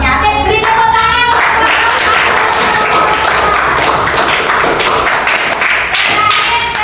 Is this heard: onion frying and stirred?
no